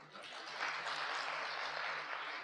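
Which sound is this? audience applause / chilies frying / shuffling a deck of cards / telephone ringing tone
audience applause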